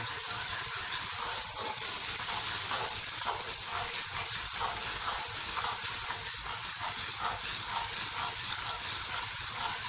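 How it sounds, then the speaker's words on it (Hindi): Steady sizzling hiss of ginger garlic paste frying in a hot pan, continuous and close, with faint crackles throughout. "अदरक लहसुन का पेस्ट डाल के इसे 2 मिनट के लिए भून लेंगे।"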